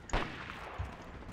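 A single sharp sniper rifle gunshot crack rings out, followed by a fainter second report, quiet and brief like game audio.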